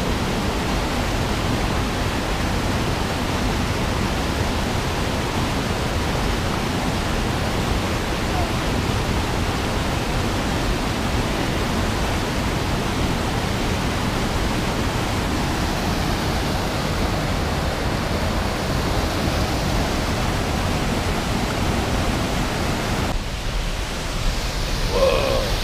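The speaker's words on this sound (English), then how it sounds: "There's like a creek, like running underneath us, coming out through the rocks down there." Creek running underneath through rocks near Kalama Falls, Washington, a steady, even rush of water that holds constant throughout with no talk.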